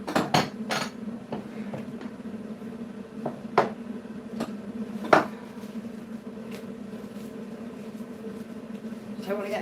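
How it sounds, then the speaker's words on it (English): Knife scraping and tapping while buttering bread in a home kitchen, with scattered light clinks and scrapes over a steady hum and a voice talking. "I'm just sitting here buttering bread"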